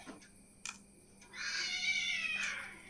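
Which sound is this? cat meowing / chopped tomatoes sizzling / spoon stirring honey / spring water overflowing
cat meowing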